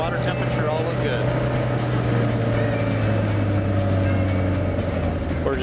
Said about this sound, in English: run-up, to make sure all the engine systems are working correctly before takeoff.